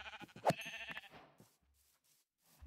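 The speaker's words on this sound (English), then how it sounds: "Ah, sheep, sheep, sheep!" A sheep bleats in a modded Minecraft world, one short wavering bleat up close amid brief soft game noises, then near quiet.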